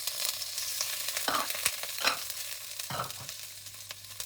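Japanese and Chinese fish cake, prawns and garlic are stir-fried for char kway teow, a quiet steady sizzle punctuated by a few sharp spatula scrapes and tosses in the pan.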